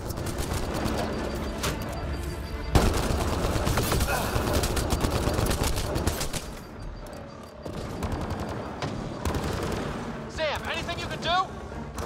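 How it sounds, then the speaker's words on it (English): Gunfight in Mass Effect Andromeda, continuous bursts of automatic gunfire and heavy shots overlapping with occasional impacts, loud and sustained, with voices talking over the battle. "It's a gunfight in the gun battery then!"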